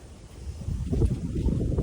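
Strong wind roars and buffets the microphone in low, uneven gusts that build and stay loud, with no voices.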